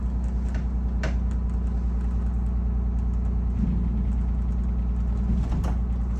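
A 1947 Greyhound bus engine rumbles low and steady as the driver eases off with the clutch, a deep continuous drone with mechanical rattles and a few faint knocks over it, no talking.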